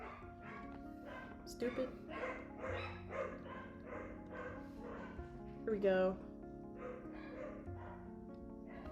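Pet dogs barking and yipping indoors while someone talks over them during a casual drawing session, with short sharp barks and whimpers scattered through the chatter and a louder burst near the middle.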